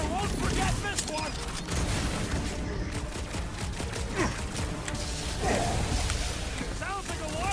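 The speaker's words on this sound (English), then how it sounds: "Sounds like a lot of flarking gunfire!" Gunfire in the Marvel's Guardians of the Galaxy video game comes as dense, rapid bursts of blasts and booms. It rattles on over several seconds, layered with game effects and characters shouting amid the fight.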